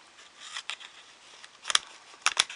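Quiet, close snips of scissors cutting material, a few soft isolated clips followed by two sharper, louder cuts near the end.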